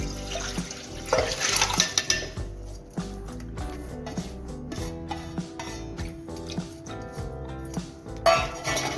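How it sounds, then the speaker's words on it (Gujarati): Water running and splashing as lentils are rinsed for dal dhokli, mixed with clinking handling sounds, while music plays steadily underneath. "તો પહેલા આપણે દાળને ધોઈ અને બાફવા મૂકી દઈએ."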